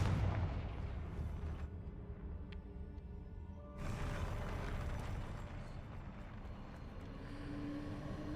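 Confringo explosive spell blasts from a Hogwarts Legacy duel, loud booming bursts with rumbling decay, a second heavy blast landing midway, over continuous game battle noise.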